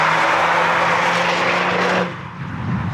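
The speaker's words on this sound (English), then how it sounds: "We can't make any jokes about the way Golfs sound either." Volkswagen Golf cars race past on a track at a club meet, engine roar loud and close for about two seconds before cutting off abruptly into quieter background noise.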